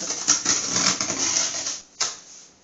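Cardboard box holding a coffee machine being torn open, a dense, continuous papery ripping and scraping for nearly two seconds, then a single sharp tear before it fades, close and fairly loud.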